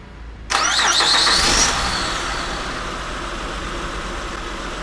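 A Honda Pilot engine, newly replaced, cranks with a whining starter, catches with a loud roar, then settles into a steady idle that continues to the end.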